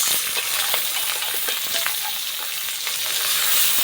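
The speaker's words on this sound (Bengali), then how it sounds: "ভালো করে কষিয়ে নেব।" Onion, garlic and cumin paste with turmeric and chili powder sizzles in a pan while being stirred, a close, steady frying hiss broken by repeated scraping and stirring clicks.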